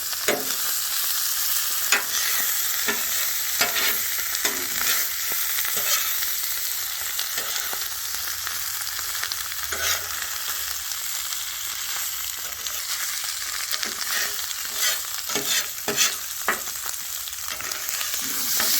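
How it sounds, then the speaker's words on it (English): Chorizo and vegetables sizzle steadily on a flat-top griddle for fajitas, a continuous bright frying hiss broken by frequent scraping clicks and taps from a spatula mixing them together, close and fairly loud with no talking. "Go ahead and mix our chorizo and our vegetables together."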